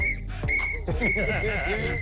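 A sharp referee-style whistle blown in several bursts, steady high pitch, loud and close with no talk over it.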